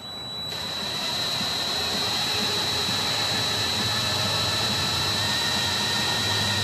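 A boat engine starts and runs to prime the pump, rising within the first second into a loud, steady roar with a high whine that holds evenly throughout.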